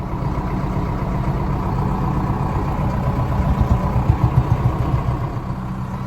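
A new Preet 75 hp tractor with an AC cab idles nearby at a farmers' fair, giving a steady mid-pitched diesel chug with a slight pulsing throb that rises a little toward the end; no one speaks.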